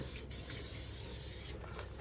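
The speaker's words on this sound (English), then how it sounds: "Spray oil is always good." A can of cooking spray oil releases a continuous close hiss for about a second and a half, then a short sharp knock; outdoors on a motorbike camping trip around Dwellingup, Western Australia.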